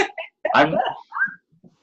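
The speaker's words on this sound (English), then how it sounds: "I'm just burping over here." A person burps aloud in a quiet room, one broad guttural belch followed by a couple of softer throaty sounds, close and fairly loud.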